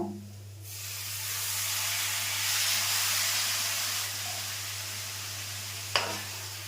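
A small splash of water hits frying soybean ghugni in a hot pan, setting off a loud, steady sizzle and hiss of steam that swells and eases over several seconds, with a sharp clink near the end.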